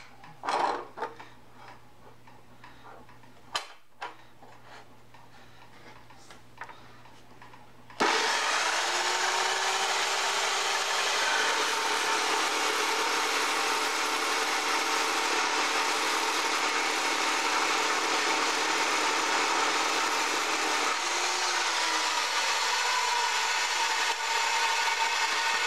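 A Jepson dry cut saw slices through an inch-and-an-eighth steel round bar, starting with scattered clanks and handling noises, then a loud, steady high-pitched whine of the blade grinding continuously through the metal, alone with no voices.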